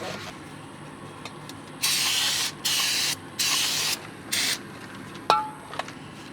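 Brake cleaner sprays from an aerosol can in four close hissing bursts, each about half a second long, against a quiet background with a light clank near the end.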